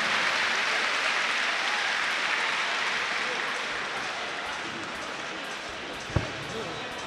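A crowd at a HEROES fight event applauds after the first round, with a steady wash of clapping and cheering, one sharp thump near the end and speech faintly underneath.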